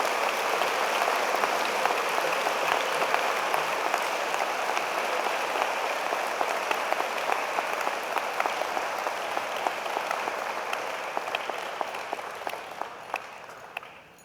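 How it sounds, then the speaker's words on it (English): Sustained applause from a ceremony audience as an award recipient makes her way up, dense steady clapping throughout that thins slightly near the end, with no speech over it. "All right, let's give Megan a round of applause as she makes her way."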